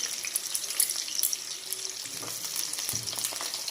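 Potato pieces frying in hot oil for a meat curry give a steady, dense crackle and sizzle, with a few soft stirring knocks near the end.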